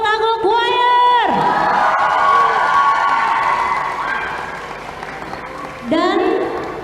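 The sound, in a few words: audience applause for a choir at a choir competition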